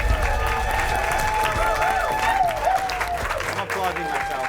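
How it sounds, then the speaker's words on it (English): Studio audience applauding a guest on a talk show, a lively round of clapping with some cheering, overlaid by music and a voice talking through it. "Give it up for Shaman Durek, everyone"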